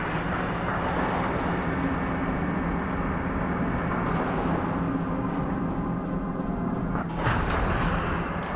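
Missiles launching in the mech video game Steel Battalion, a dense roaring blast that sustains loud and steady throughout, with a sharper burst near the end.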